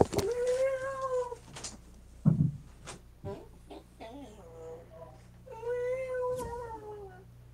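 A pet cat meows in a series of drawn-out, wavering cries, loud and close, with a brief bump of handling noise partway through and no talk over it.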